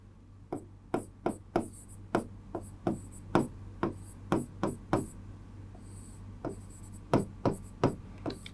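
Chalk or marker strokes on a classroom board during a chemistry lesson: a steady series of about twenty sharp taps and scrapes, evenly paced with brief pauses, close and clear with no talk.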